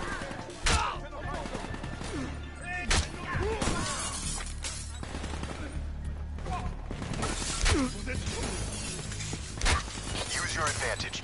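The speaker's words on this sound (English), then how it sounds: "I just ran right through the disabling tactical glass." Tactical glass shattering in the Call of Duty Black Ops III video game, sounding as several loud, sharp breaking crashes amid gunfire-like bursts and a dense game soundscape, with voices talking.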